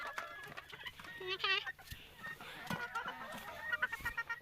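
Chickens cluck and squawk close by in short, uneven bursts, with someone speaking briefly among them.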